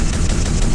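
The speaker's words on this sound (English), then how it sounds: "Who knew that the machine guns on an ME-262 could sound exactly like the gunshots from a 30mm cannon?" A short burst of rapid machine-gun fire from an ME-262 jet fighter in a World War II film battle scene. It is loud, dense and continuous for under a second.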